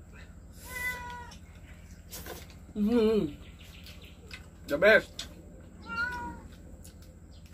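A cat meows several times in short, separate calls, a couple of them louder and closer, while a person speaks briefly in a quiet room.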